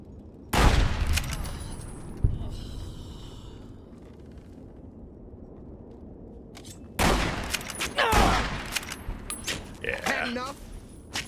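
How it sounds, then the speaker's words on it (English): The brush gun lever-action rifle in Fallout New Vegas fires with a loud, booming shot, followed after a pause by another burst of heavy gunfire and clatter, with someone talking between and over the shots. "See if we can get a nice crit off with the brush gun here."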